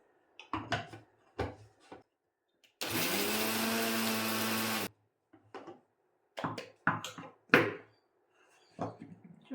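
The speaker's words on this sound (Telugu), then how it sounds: "ఇప్పుడు ఇది కూడా మిక్సీకి వేసేస్తాను." Dried turmeric ground into powder in a kitchen mixer grinder, one loud two-second whirring burst between clattering knocks of the jar and lid.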